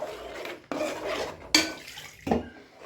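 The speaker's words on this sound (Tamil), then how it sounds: "இப்போ கிரேவிக்கு தேவையான வாட்டரை நம்ம ஆட் பண்ணிடலாம். ஆட் பண்ணி நல்லா கிளறி விட்டுருங்க." Metal spoon scrapes and clanks against a pan while water is stirred into paneer butter masala gravy, with a few sharp close knocks among the steady scraping.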